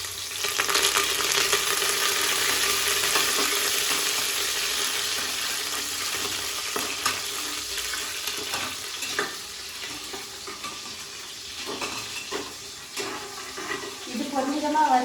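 Curry leaves sizzle and crackle in hot oil, a steady, bright hiss that fades slightly over time, with occasional stirring clatter and a voice speaking now and then.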